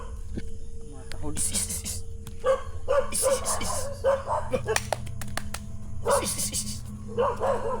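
Repeated dog barks in uneven bursts, fairly close, with people talking in between and a low hum underneath.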